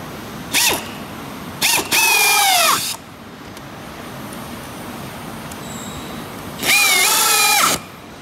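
A power drill drives a self-tapping screw into knotty wood in three bursts, a short one, a longer strained one with the motor pitch dipping, then a final long run, separated by quiet background hum.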